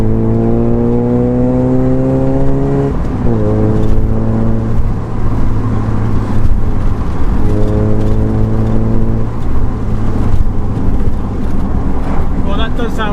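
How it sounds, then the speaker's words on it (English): Exhaust of a Mazda MX-5 revving with the roof down on a straight on a sunny day, engine note rising through several climbs and drops, loud and steady for the whole stretch with a brief voice near the end. "So now let's hear the exhaust with the roof down."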